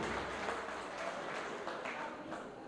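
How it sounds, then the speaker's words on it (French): Gala audience at a cultural event in Montréal applauding, a dense, continuous wash of clapping from a crowd that stays fairly even and moderately distant throughout. "je vais vous demander d'applaudir très fort monsieur qui sort de la scène"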